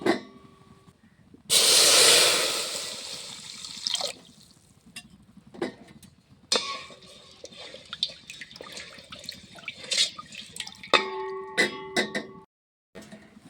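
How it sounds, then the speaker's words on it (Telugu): Water is poured over lentils in a pot to rinse them while making pappucharu in a village kitchen. A loud, steady gush runs for a couple of seconds, then gives way to intermittent splashes, swishes and drips. "ఇప్పుడు నీళ్ళు పోసి కడిగేసుకుంటాను"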